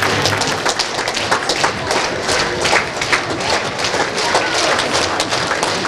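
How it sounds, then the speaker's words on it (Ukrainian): A theatre audience applauds the actors after a performance, producing a dense, steady wash of many hands clapping that fills the room loudly and without pause. "Глядачі аплодують і дарують акторам квіти на знак захоплення та подяки."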